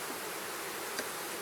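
Honey bees buzzing around a hive frame in spring, a faint, steady hum with one small rustle.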